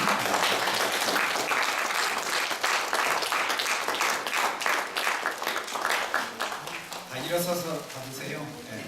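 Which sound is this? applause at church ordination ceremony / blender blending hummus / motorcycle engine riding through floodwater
applause at church ordination ceremony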